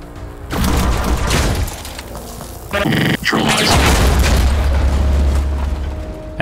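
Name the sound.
explosion in the video game Mutant Year Zero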